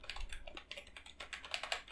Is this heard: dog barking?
no